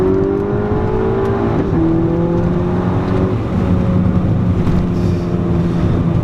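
An APR-tuned Volkswagen GTI with a turbocharged engine, running around 15 pounds of boost, downshifts and pulls hard, its engine note climbing steadily under a loud continuous drone heard from inside the car.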